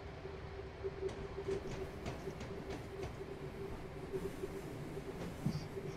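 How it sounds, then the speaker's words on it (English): A long aggregate freight train rolls past on the Sheerness Branch in Train Simulator 2015, a steady rumbling clatter with a sustained hum and rhythmic wheel clicks, moderately close. "Seems like an interesting place to take an aggregate train."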